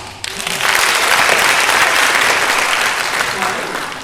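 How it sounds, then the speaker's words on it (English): An audience at a high school Black History program gives a round of applause, loud sustained clapping and some cheering that swells quickly after a brief pause and holds steady before easing slightly. "Let me hear you give a round of applause"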